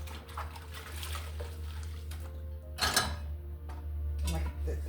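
Water runs steadily while a cast iron pan is scrubbed and rinsed at a kitchen sink, with a brief louder splash and clatter near the middle and occasional metallic knocks over the continuous flow.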